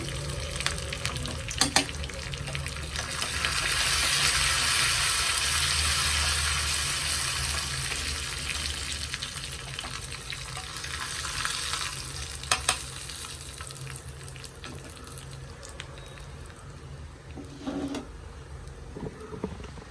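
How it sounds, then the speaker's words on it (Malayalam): Dried red chillies and curry leaves fry in hot tempering oil for a green mango dish, giving a continuous close sizzle with crackling pops and stirring clatter throughout. No talking. "വറ്റൽ മുളക് ഇട്ട് കൊടുക്കാം കറിവേപ്പില ഇട്ടു"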